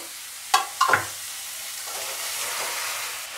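Pieces of fish drop into fried poppy seed paste for a traditional Bengali chara pona fish curry, giving a couple of sharp splashing hits followed by a steady, close sizzle with a faint hiss and no talk.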